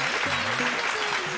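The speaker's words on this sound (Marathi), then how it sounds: "जोरदार टाळ्या सुहासताईंसाठी." An audience applauds at a stage event, a dense, loud wash of many hands clapping together. A voice speaks over it partway through.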